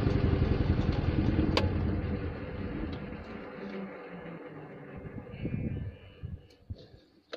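An Invacar engine is revved to spin its cooling fan, a close buzzing drone that gradually falls away into quieter, uneven running, with mechanical clatter near the end.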